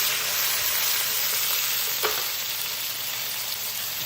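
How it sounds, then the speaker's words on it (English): Pre-cooked potatoes sizzle steadily in hot oil in a non-stick skillet over medium-high heat, a constant close frying hiss with a brief stirring clink midway and no voices. "We're gonna add our potatoes. I'm gonna give them a little toss."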